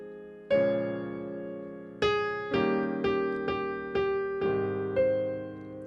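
Piano playing a slow melody over sustained chords, with a chord struck about every half second after an opening chord, ringing clearly with no voices.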